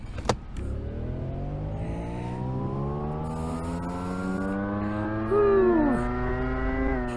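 Car engine in the VR driving game Car Parking Simulator revving and climbing steadily in pitch for several seconds, a smooth rising drone after a short sharp knock at the start.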